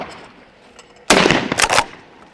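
A single loud shotgun blast on a sporting clays range, firing at a clay target, cracks sharply out of quiet background and rolls off with a brief echo.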